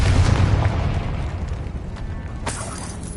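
A Confringo explosion spell goes off in Hogwarts Legacy, opening with a loud booming burst that rumbles and fades, followed by a brief crackling pop near the end.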